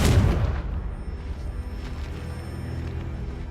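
A heavy booming blast from the Confringo spell in Hogwarts Legacy hits loudly at the start, then a long rumbling, crackling tail fades under steady background noise.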